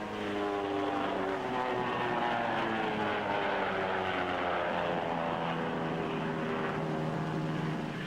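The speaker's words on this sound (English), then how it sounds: "The Fairey Gannet, powered by an Armstrong-Siddeley double-member turboprop engine, is a three-seater anti-submarine aircraft." A steady propeller-engine drone from a Fairey Gannet anti-submarine aircraft with an Armstrong-Siddeley double turboprop engine holds at constant loudness, a continuous mechanical hum with buzzing harmonics, like an aircraft passing nearby.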